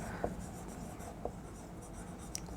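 Chalk or a marker scratches a statement onto a classroom board in short, sparse strokes with small taps, faint against a quiet room hum and no clear talk.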